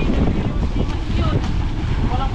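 A boat engine running out on the Pacific off the Philippines, a loud steady rumbling drone mixed with wind buffeting the microphone and water noise, continuous throughout.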